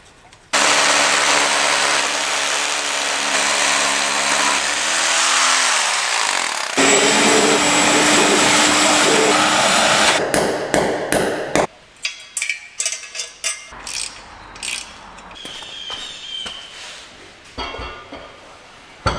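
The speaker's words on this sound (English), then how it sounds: "Now we need to pound some holes in the concrete." Hammer drill boring holes into a new concrete shop floor while anchoring a mezzanine bracket, loud and continuous for about ten seconds, then shorter bursts and clattering pauses as drilling stops and starts.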